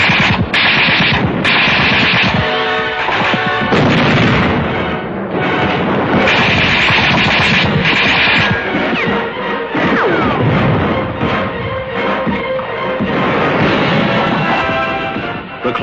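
Heavy gunfire from American tanks firing their guns point blank at defenders hidden in grandstands during World War II fighting in the Pacific, with loud, dense, repeated blasts and crashing impacts continuing throughout without a break.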